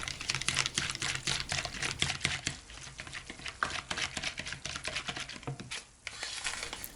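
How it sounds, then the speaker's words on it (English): A whisk stirring honey into a yeast dough mixture in a bowl, producing rapid, steady clicking and tapping strokes with a light crinkly patter that continues without pause throughout. "Give it a mix using a whisk."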